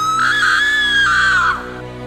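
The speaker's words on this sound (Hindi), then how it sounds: "अचानक से कौशल्या जोर से चिल्लाती है और उसकी आवाज़ पूरे घर में गूंज उठती है।" A woman's single loud, sustained scream rises and wavers for about a second and a half before cutting off, a horror-story sound effect heard alone over a faint low hum.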